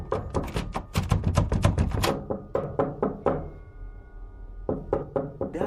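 Rapid, hard knocks rap on a wooden door in a rented house, coming in dense clusters with a brief lull and a faint tonal hum before a few more knocks resume, staged as a horror sound effect.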